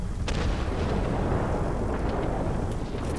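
A dense, continuous rumble of bombs exploding on the ground after being dropped from an A-26B bomber in World of Warplanes, a loud sustained roar with overlapping booms and no talk.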